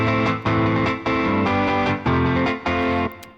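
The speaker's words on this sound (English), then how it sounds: "Let's turn on our chuck strumming and turn on the distortion overdrive we have on the EFX" Distorted, overdriven electric guitar chords strummed in a chugging rhythm through an effects unit, playing a rock song; loud, dense chords repeat roughly every half second over a steady backing beat.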